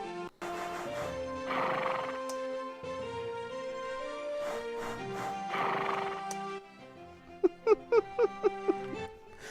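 Horses in an old 3D video game whinny and neigh in long tonal calls, followed by a quick run of clip-clopping hoofbeats near the end, loud and clear with no talking.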